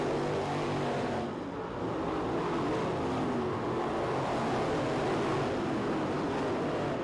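Race cars at a winter nationals B-main race in a dense pack, giving a continuous loud roar of engines that swells slightly, heard from a distance without talk.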